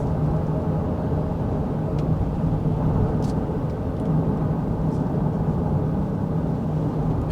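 Steady, broadband road and tire roar inside the cabin of a 2026 Honda Pilot Trailsport cruising at about 40 mph, an even low rumble with no talk.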